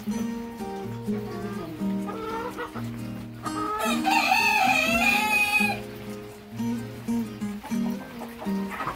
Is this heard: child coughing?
no